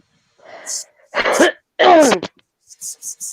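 A single human sneeze rises in a short breathy build-up and bursts close to the mic, followed by a few light taps on the microphone.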